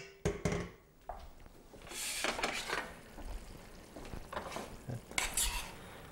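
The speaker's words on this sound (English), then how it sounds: "I'm just going to spoon it over and then we'll toss." Metal utensils clink and scrape against a pan and dish as pasta sauce is spooned over bucatini, with wet stirring and tossing sounds in a quiet kitchen, close by.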